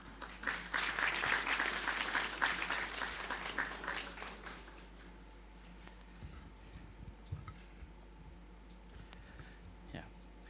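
An audience applauds to welcome the Governor of the Bank of Mongolia at a formal opening session: dense clapping for about four seconds that thins out and fades, followed by faint shuffling and room noise.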